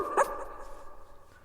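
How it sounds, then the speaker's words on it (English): An animal character in the video game Swinging Survival gives a short gibberish bark, a single sharp yap near the start that fades into a brief echoing tail, as if inside a cave. "their gibberish barks are delightful"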